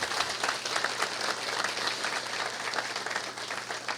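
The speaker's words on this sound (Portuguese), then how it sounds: "E um forte aplauso ao Senhor, por favor." Steady audience applause at a book launch event, dense and continuous clapping from a crowd filling the whole moment without pause.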